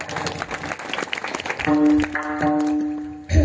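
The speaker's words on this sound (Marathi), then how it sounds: "टाळ्या वाजवा त्यांच्यासाठी" An audience at a Marathi kirtan clapping for the pakhawaj player, a burst of fairly loud, dense applause that thickens partway through and mixes with a sustained tone and a low thump at the end.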